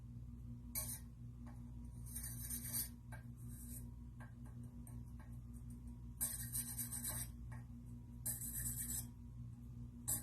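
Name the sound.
skewer poking holes in enamelware tray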